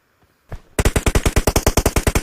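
Gunfire in the mobile battle royale game PUBG Mobile: a single faint shot, then a loud, close burst of about sixteen rapid automatic rounds in an even, fast rhythm.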